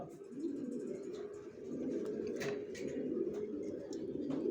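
Racer pigeons coo steadily and close by, a low continuous murmur of overlapping calls with no talking.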